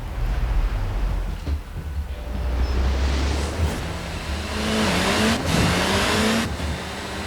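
Race car engine in Forza Horizon 4 revving at the start of a run, a loud steady drone with rising and falling pitch sweeps, heard alone without talk.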